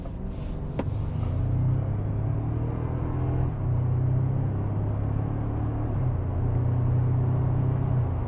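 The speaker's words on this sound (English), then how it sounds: "Yeah, it accelerates really well. You feel the 465 pound-feet of torque." A 2024 Toyota Tacoma i-FORCE MAX pickup accelerates under full throttle, its engine holding a steady, loud low drone from inside the cab that rises and steps through gear changes over several seconds, with no talking.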